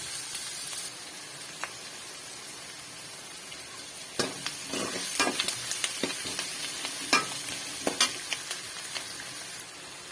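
Onions sautéing in a pan with curry leaves, a steady sizzle and fry broken by clusters of stirring scrapes and clinks, close and moderately loud.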